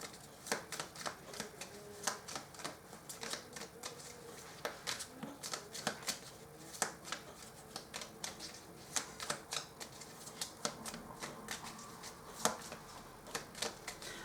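Tarot cards being shuffled and drawn, a rapid run of crisp riffling flicks and snaps close by, irregular bursts continuing throughout without speech.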